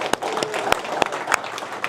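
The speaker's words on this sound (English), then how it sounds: "let's give him one more round of applause" Applause from the audience at a ham radio club meeting, a short burst of clapping with a few sharp claps standing out, filling the room for under two seconds.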